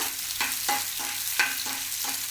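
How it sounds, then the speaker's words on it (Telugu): Onion pieces frying in a pan, a soft steady sizzle broken by rhythmic stirring strokes about every third of a second, moderately quiet and close. "ఇది కొంచెం వేగిన తర్వాత ఈ ఉల్లిపాయ ముక్కలు వేసుకోవాలి ఇవి కొంచెం మగ్గిన తర్వాత"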